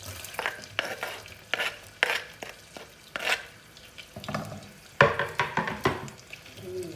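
Shallots fry with butter in a pan for an asparagus sauce: a soft sizzle under repeated scraping strokes of a utensil stirring against the pan, arriving in irregular bursts, close by and moderately loud.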